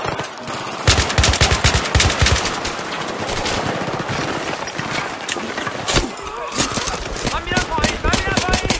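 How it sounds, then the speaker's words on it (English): Rapid machine-gun bursts of anti-aircraft fire in the Battlefield video game, dense and loud across the whole stretch, with sharp repeated cracks layered under battlefield noise and shouted voices. "Serious anti-air over here."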